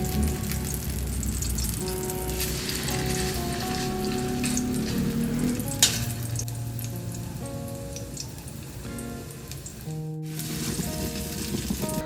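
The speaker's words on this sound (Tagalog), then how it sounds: "Piniprito niya." Food fries in a pan for a home-cooked dinner, a continuous crackling sizzle like light rain, with faint tonal background sounds and a brief dropout near the end; no one speaks.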